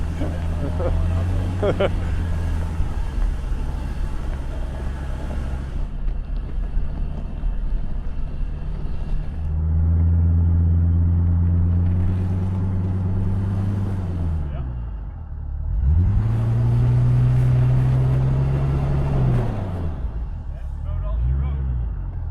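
Ford Excursion stretch limo engine revving hard while stuck, rising and falling in repeated long surges with a rumbling tone, close and loud, with wind buffeting and people talking over it.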